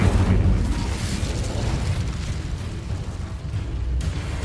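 The Incendio fire spell cast in the video game Hogwarts Legacy bursts out as a loud, close whoosh and boom at the start, then a sustained roaring, crackling rumble that fades slightly and swells again toward the end.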